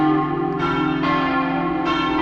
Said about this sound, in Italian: E anche oggi si inizia il giro con tanto di suono di campane.